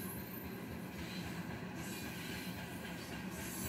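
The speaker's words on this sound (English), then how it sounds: "I was right, that rumble." A southbound BNSF coal train with two CSX distributed power units rolls past in a continuous low rumble of hopper cars and wheels, steady and fairly distant throughout, with no talking.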